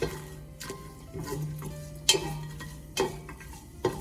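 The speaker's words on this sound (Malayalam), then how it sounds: "നമുക്ക് ജസ്റ്റ് ഇതൊന്ന് ഇളക്കി കൊടുക്കാം" Whole spices such as fennel, cardamom, cloves, star anise and cinnamon stirred in a pan for chicken dum biryani, giving soft scraping sweeps and a few sharp clinks of the utensil against the pan, fairly faint and without talk.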